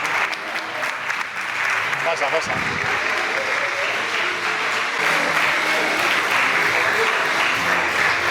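An audience in Segovia applauds as performers arrive, steady, dense clapping running throughout while someone speaks briefly over it and other voices murmur nearby.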